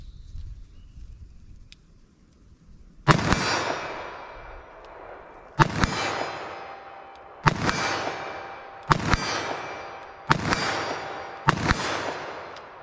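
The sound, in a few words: gunshots from a .357 Magnum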